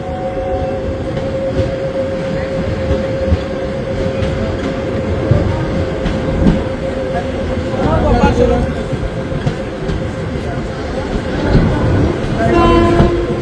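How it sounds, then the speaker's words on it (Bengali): Haldibari Intercity Express drawing into platform 1 at Kishanganj station, a steady low rumble of wheels and carriages with clanks and a brief horn-like tone, people talking throughout. "1 নম্বর প্ল্যাটফর্মে ট্রেন দিল।"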